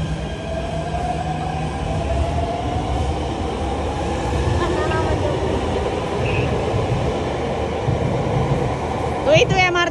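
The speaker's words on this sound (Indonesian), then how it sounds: "Tuh itu MRT-nya" Jakarta MRT train running past, with a steady loud rail rumble and rising whine throughout, some wheel squeal and a brief clatter near the end; people talk over it.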